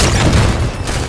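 Gunfire and explosions in the video game Halo 5 multiplayer, a loud, dense, continuous rumble of shots and booms heard close throughout a brief burst.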